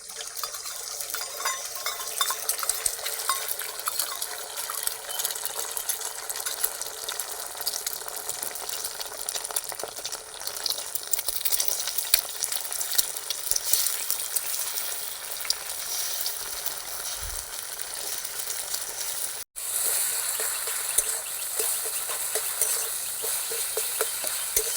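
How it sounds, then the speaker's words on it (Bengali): Beaten eggs with a pinch of salt fry in a pan, scrambled into small bits for bhujiya, making a continuous close sizzle with scattered crackles and occasional scraping stirs; one brief dropout breaks it near the end, and nobody speaks. "ডিমগুলো ভুজিয়ার মতো ভেজে নেব কুচি কুচি করে।"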